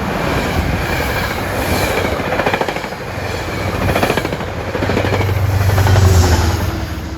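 Amtrak train 237, New York to Albany-Rensselaer, rumbles past at Ardsley-on-Hudson on an evening, a loud, steady roar of wheels and rail clatter swelling as it nears, with a low engine drone.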